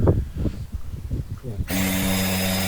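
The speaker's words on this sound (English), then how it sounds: "So I'm just drilling the holes at the moment" Someone talks briefly, then a power drill starts up and whines steadily and loudly as it bores holes for installing a driveway security light.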